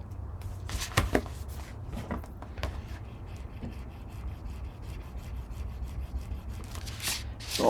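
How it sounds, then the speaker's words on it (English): Paper being burnished with a hand tool while assembling a flip book, a quiet close-up rubbing and scraping with a few sharp strokes; no talking. "So I'll burnish that and then I'll open this and burnish this as well."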